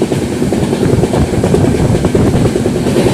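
The Poorva Express running fast on the way to Delhi, heard as a loud, steady rumble with rhythmic clatter from the wheels on the rails, close and continuous, with no voices.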